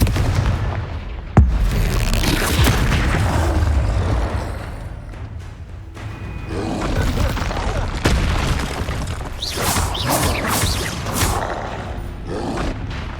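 Confringo fire spell explosions in the video game Hogwarts Legacy: loud, booming blasts and crackling impacts in rapid succession throughout, with a sharp hit near the start and a voice shouting among the bursts.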